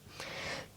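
A single deep, breathy inhalation during yoga practice, soft and close, lasting under a second with an airy, slightly hoarse rush.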